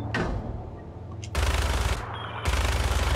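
Automatic gunfire from the video game Fallout 4, played against a Deathclaw, comes as loud sustained bursts of rapid shots, the second burst after a brief lull, over a low steady background rumble.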